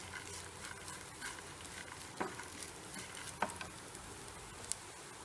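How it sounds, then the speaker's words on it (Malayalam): Coconut pieces and cashews fry in ghee with a steady, quiet sizzle, broken by a few sharp clicks and scrapes of stirring; no one speaks. "തേങ്ങ കൊത്തും കശുവണ്ടിയും നെയ്യിൽ വറുത്ത് മൂപ്പിച്ചെടുത്തിട്ട്"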